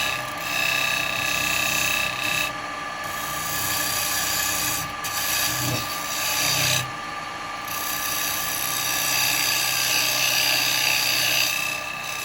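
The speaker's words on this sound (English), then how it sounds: "I'm going to come in with a square carbide just to get a little bit deeper on this" A square carbide turning tool cuts into a spinning wood blank on a lathe, giving a steady continuous scraping rasp with a low motor hum beneath, loud and close throughout with brief dips in the cut.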